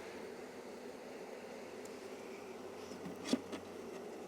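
Honey bees buzzing during a hive inspection, a faint continuous hum close by with a sharp knock or tap near the end as frames are moved.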